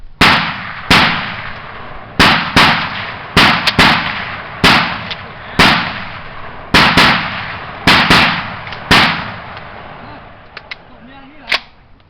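Gunshots ring out in a forest, about a dozen sharp, loud reports spaced irregularly at one- to two-second intervals, each with a brief echoing decay, and a few faint clicks near the end.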